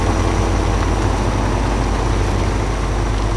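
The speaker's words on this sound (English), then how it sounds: "You can hear a bit of a whip of a Scania V8 engine." A Scania V8 engine in a logging truck in the MudRunner video game rumbles with a steady, loud, low-pitched drone that holds evenly throughout.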